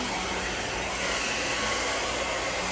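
A hair dryer blows steadily on a child's scalp, giving a loud, close, continuous rushing whoosh with no speech over it.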